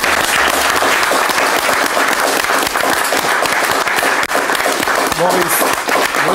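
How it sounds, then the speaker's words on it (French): A live audience at a literary evening claps in sustained, dense applause, loud and close, with a few voices faintly heard beneath the clapping. "Je crois qu'on peut l'applaudir."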